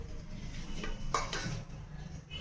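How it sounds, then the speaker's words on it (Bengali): A spatula scrapes and clinks against a pan while lifting hot fried food out, with a few close metallic knocks and scrapes over a light background hum. "খুন্তি দিয়ে নামাতে হবে এটাকে, গরম আছে তো।"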